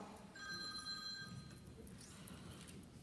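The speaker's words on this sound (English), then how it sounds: "Oops, make sure your cell phones are off." Cell phone ringing faintly in a concert hall, a short electronic ringtone of repeated tones sounding for about a second over low background room noise.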